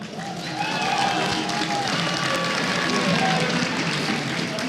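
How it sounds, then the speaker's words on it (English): Audience at a StarCraft 2 esports tournament, IEM 2015 Taipei, gives a finalist a round of applause, a steady wash of clapping with a few faint cheers that swells and holds. "Everyone, let's give him a round of applause."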